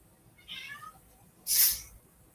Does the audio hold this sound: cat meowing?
yes